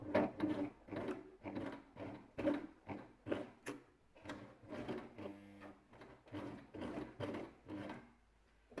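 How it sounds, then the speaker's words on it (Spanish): A sewing machine backstitches through thick fabric with rhythmic bursts of needle clatter, each run of stitches pausing briefly before the next, close and moderately quiet. "Y ahora le damos puntada de retroceso."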